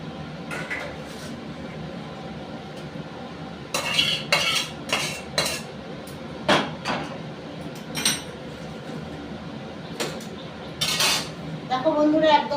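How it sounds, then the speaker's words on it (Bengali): A spoon scrapes and clinks against a metal pot and plate while mild, lightly spiced homemade Bengali shukto is served out, giving a series of close, irregular utensil knocks against a quiet kitchen background. "তার জন্য একটা থালা নিয়ে নিয়েছি শুক্তোটা নামানোর জন্য।"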